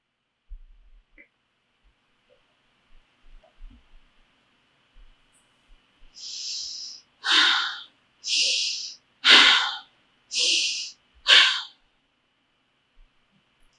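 Heavy, forceful breaths during a kundalini yoga exercise: a long inhale, then five strong, evenly spaced exhalations, each about a second long, close and loud in otherwise near silence.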